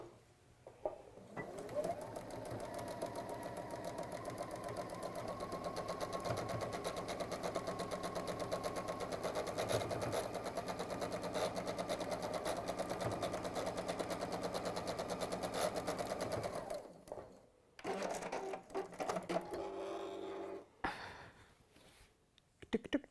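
A sewing machine runs steadily, sewing down a fabric seam at a workshop bench, a continuous whirring that lasts about sixteen seconds before stopping, followed by quieter handling noises.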